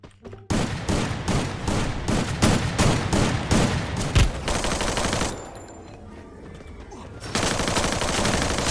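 Dense, rapid gunfire from Free Fire, loud, near bursts of automatic shots that rattle on for several seconds, then a brief thinner stretch before the firing swells again.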